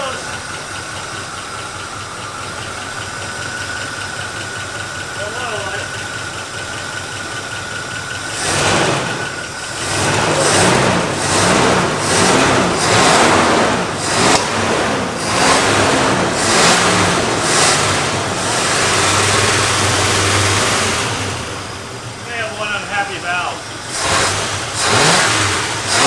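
An abandoned barn-find Oldsmobile engine turns over and then catches after 23 years. It revs up hard in repeated bursts and settles between them, loud and close. A voice is heard toward the end.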